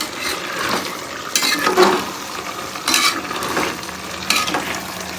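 Eggs fry in a home kitchen pan for egg biryani, a continuous sizzle broken by repeated scraping stirs and a few metal clinks of the spatula against the pan.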